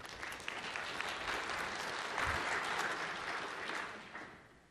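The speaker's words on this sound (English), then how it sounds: "So would you mind giving an applause for Konstantin, please?" A tech conference audience claps for a presenter on Microsoft cloud and virtualization, a soft, even wash of applause that swells slightly in the middle and fades toward the end.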